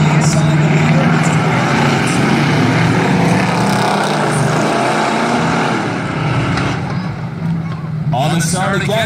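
Eight-cylinder race cars run a heat race at Valley Raceway, their engines droning loudly and continuously beneath a commentator's voice, rising and fading as the pack passes.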